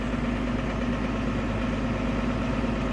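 A farm tractor idles as it warms up on a snowy Kansas morning before feeding hay, a steady low engine rumble running evenly and alone the whole time.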